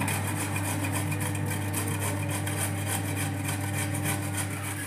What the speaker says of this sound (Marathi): चला आता सर्व गाजर किसून घेऊया